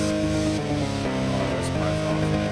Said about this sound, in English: vocal chop I did of the lead singer going wah